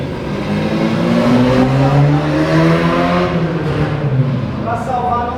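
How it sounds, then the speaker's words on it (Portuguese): A loud car passes by outside in front, its engine rising and falling with a broad drone that swells and fades over several seconds. "Só passa carro barulhento aí na frente."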